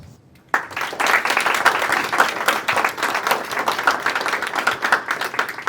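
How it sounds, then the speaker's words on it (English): Audience applause for participants in a declamation contest starts abruptly after a quiet moment and continues as dense, steady clapping from a sizable crowd. "I would say that big applause to all the participants"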